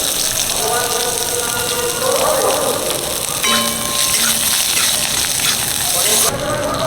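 Panch phoron, bay leaf, dried red chilli and onion hit hot oil in a pan, giving a loud, dense, continuous sizzle and crackle close by, with faint bits of voice under it.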